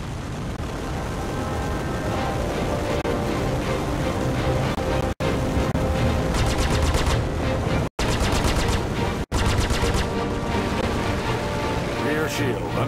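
Gunfire striking a spaceship's shield in the ICC missions space combat game: dense rapid volleys of crackling shots beneath a steady engine drone, with brief silent gaps between the bursts.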